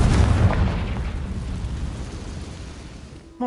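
A Confringo spell blasts off in a Harry Potter video game, a loud booming explosion that hits hard at the start and rolls off into a long rumbling decay over a few seconds, with no talking.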